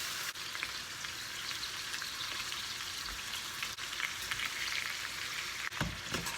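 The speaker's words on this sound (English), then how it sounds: "So we'll let that cook down, simmer for a couple of minutes." A pumpkin casserole mixture bubbles and sizzles steadily in a pan, a close, even crackling hiss with a few soft stirring knocks.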